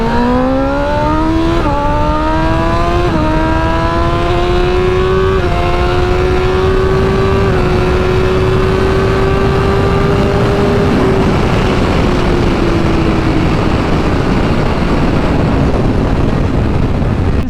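BMW motorcycle in race mode with its limiter removed, revving up through several loud stepped rises in engine pitch, then holding high and fading off, close by.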